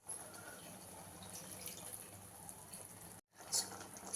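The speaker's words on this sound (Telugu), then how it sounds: "కొంచెం వాటర్ యాడ్ చేయాలి." Water is poured into a cooking pot of capsicum masala curry, a quiet, steady trickle and splash that stops briefly near the end before a few louder splashes, with no talking.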